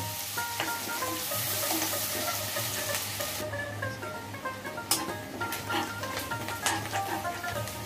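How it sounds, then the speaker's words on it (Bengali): Onions stirred and fried until brown for a spiced rohu fish curry, a steady sizzle with scraping stir strokes that grow more distinct in the second half, close by with no talk. "পেঁয়াজগুলি নাড়াচাড়া করে ব্রাউন কালার করে ভেজে নিব।"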